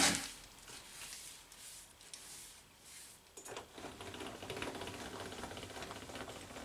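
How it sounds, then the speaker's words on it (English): Carriage of an Atlas metal lathe sliding back and forth after maintenance, a faint clicking, ratchety mechanical rattle that grows denser and rougher partway through, with no voices. "Carriage is going back and forth nice and smooth."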